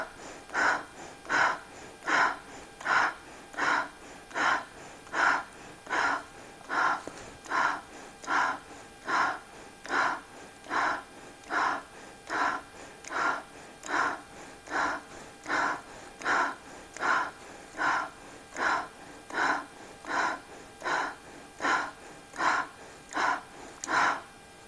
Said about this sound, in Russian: Итак, 30 делаем коротких вдохов и выдохов, делайте со мной в одном ритме.